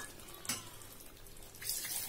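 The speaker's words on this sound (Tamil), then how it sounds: "தேவையான அளவுக்கு தண்ணி சேர்த்துக்கிறேன் நான்" Water poured into a pot of chicken kuzhambu curry, a soft steady splashing with a brief louder splash near the start and a swell at the end, close by, no talk.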